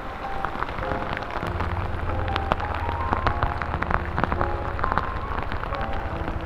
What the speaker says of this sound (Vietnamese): mưa lớn quá rồi